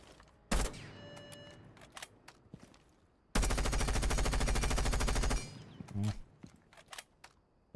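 Automatic gunfire in the video game Rainbow Six Siege: a short opening shot, scattered single reports, then a long sustained burst of rapid fire lasting about two seconds, followed by a few trailing shots, loud and close.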